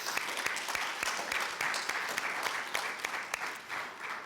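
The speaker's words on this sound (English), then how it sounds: "Let's have a round of applause for the Department of English." An audience claps steadily for several seconds at an honoring event for an English department, a dense wash of applause with a few sharper individual claps standing out.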